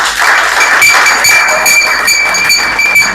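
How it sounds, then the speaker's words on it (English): Audience applause at a Jamaica Labour Party political meeting, a dense steady patter of many hands clapping throughout, loud and sustained with no voices over it. "I think you all need to give Mr. McCall a round of applause for that"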